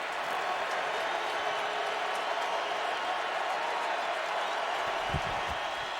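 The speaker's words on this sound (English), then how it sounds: "You can hear the crowd getting loud." A football stadium crowd roars during a Saints at Colts game on a big third-down play, a loud continuous wall of crowd noise with cheering, under a commentator's voice.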